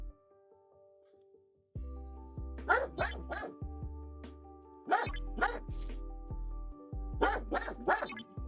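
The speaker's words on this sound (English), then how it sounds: "Cheeker's dog, hush" A dog barks nearby in short bursts of several sharp yaps, with quiet gaps in between and a steady low hum in the background.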